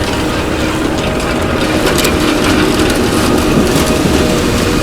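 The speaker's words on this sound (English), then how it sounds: "That's the elevator coming back down from the tank." A sugar beet harvester's elevator runs back down from the tank, a dense continuous mechanical clatter of chains and gears over a low engine rumble, loud and unbroken in an open field.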